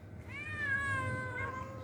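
A single drawn-out cat meow, clear and fairly close, rising then falling over a low steady background hum.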